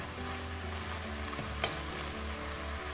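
Wild garlic flowers and shrimp stir-fried in a wok over high heat, a steady loud sizzle with a brief scrape of stirring, close and continuous.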